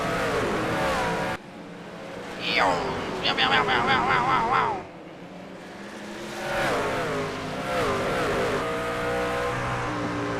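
Race trucks on a racing video game's Bristol oval roar back up to speed on a restart, with a loud layered engine drone, rising revs and a burst of rapid pulsing.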